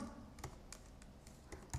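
Fingers tap out text on a computer keyboard in quick, irregular keystrokes, soft and close, with no speech.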